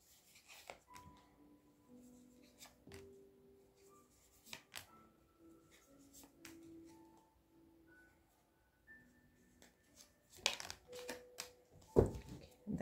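Soft, scattered card handling from a tarot deck being shuffled and cards pulled, faint and close, with a denser rustle of shuffling near the end.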